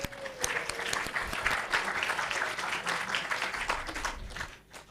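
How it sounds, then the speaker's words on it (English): Conference attendees at CITSM 2025 break into applause, many hands clapping in a dense, steady patter that swells and then tapers off near the end, moderately distant in a hall. "Give applause for all of us."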